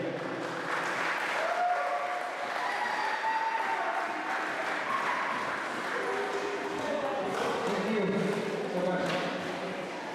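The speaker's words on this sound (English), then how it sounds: "Let's give a round of applause" Applause from an awards ceremony crowd at a holiday basketball tournament, steady clapping sustained for several seconds, with a speaking voice over it.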